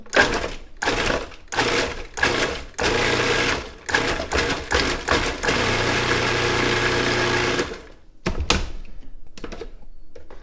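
Food processor pulsing rouille ingredients such as smoked paprika, a close series of short whirring bursts of varying length separated by silences, with one long run near the middle, then a clunk and a quieter hum at the end.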